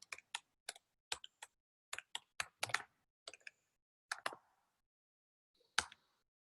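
Java code being typed on a computer keyboard: short, close bursts of crisp keystrokes in an uneven rhythm, with brief pauses between groups and a final isolated tap after a longer gap. No voices.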